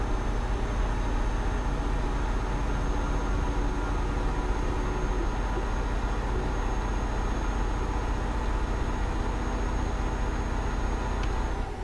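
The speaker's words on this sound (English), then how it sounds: "If you can hear something in the background, I've got my fan next to me." Constant steady whirring drone of an electric fan running nearby, loud and unchanging throughout, with no talking.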